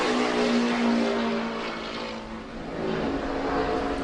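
A NASCAR stock car on a qualifying lap howls past with a rising and falling engine note, loud and close, dipping briefly midway before surging back.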